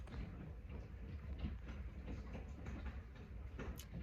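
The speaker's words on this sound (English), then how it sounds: "That is the sound of a tornado." A tornado passing through a residential neighborhood gives a low, continuous roar like a distant train, a steady rumble that stays faint and unbroken with no voices.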